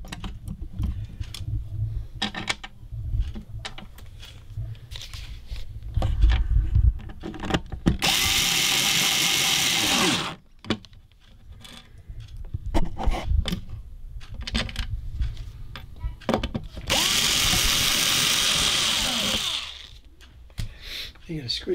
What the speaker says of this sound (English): Screwdriver.